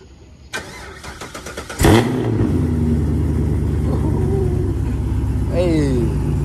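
A loud car engine cranks and fires up late at night, a sharp starter burst followed by a steady, throaty idle that lingers with a faint rising whine near the end.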